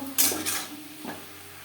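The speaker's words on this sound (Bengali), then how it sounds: "শাকের সাথে বেশ ভালো করে মিক্সড করে দেব" A spatula scrapes and clinks against a pan as betho shak greens with salt and a slit green chili are stirred and fried, two or three quick scraping strokes followed by a softer one, close and alone.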